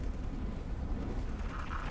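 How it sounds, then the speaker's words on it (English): Explosions aboard ships during space combat in X4 Foundations rumble as a continuous, dense low roar with a faint hiss above, steady and loud throughout with no clear separate blasts. "I don't like losing any ships in these explosions"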